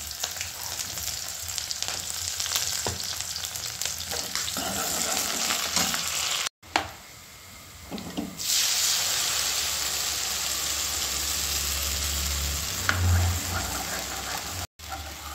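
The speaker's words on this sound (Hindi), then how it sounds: "और अब फ्रेंड्स मैं हरी मिर्ची, कड़ी पत्ता, प्याज, ये तीनों चारों चीज़ें मैं डाल रही हूँ एक साथ ही" Green chillies, curry leaves and onion frying together in hot oil for kadhi, a loud continuous sizzle with stirring scrapes, briefly dropping after a clatter and then resuming steady.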